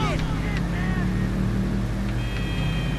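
A muscle car engine in GTA V drones low and rumbling with a throaty idle and rising revs, whining tones layered on top, sustained throughout.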